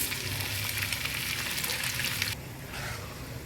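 Soaked sona masuri rice crackles and sizzles in hot tempering oil, a loud steady fry that dips quieter near the end, with no voices.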